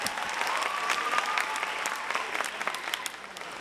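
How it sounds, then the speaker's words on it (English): Students, parents and visitors at Minnesota Math and Science Academy clap for the school staff, a lively burst of applause with distinct individual claps standing out, and a faint voice or whistle underneath. "I want you to give them a hand. Can you clap for them?"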